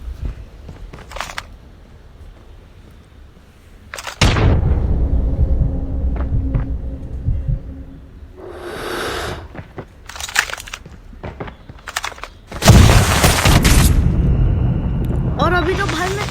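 Gunfire in a Call of Duty one-on-one match: loud bursts and single shots with impacts and booming effects, broken by quieter stretches of game ambience, close and dense toward the end.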